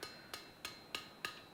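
Hammer striking forged steel Viking tongs on an anvil, six sharp ringing metallic blows at a steady, even pace about a third of a second apart, close and clear with no talk.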